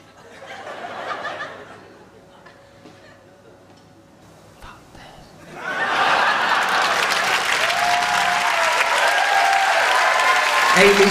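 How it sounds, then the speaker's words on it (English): Loud applause from a stand-up comedy audience swells in and holds steady after a few seconds of quieter murmuring and scattered chuckles. "Round of applause for Amy."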